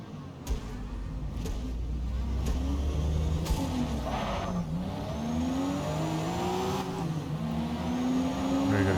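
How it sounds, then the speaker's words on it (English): Mazda RX-7 race car in Forza Motorsport accelerating hard, engine note climbing and shifting through gears in a steady loud roar with a few sharp clicks, no talk. "Very good acceleration. RX-7's flying ahead."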